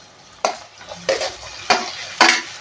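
Cut tomatoes tossed into a pan of sautéing ingredients for an egg thokku, with four sharp stirring scrapes against the pan over a low sizzle, close and clear.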